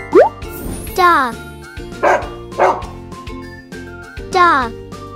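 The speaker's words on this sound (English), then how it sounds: "Dog." A dog barks in a few short, separate woofs, close and clear, over bouncy background music with brief chiming effects.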